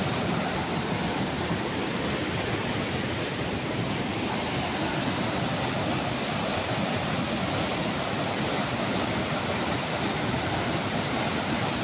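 The Antonico waterfall roars powerfully and steadily, a dense, unbroken rush of falling water filling the whole scene without pause.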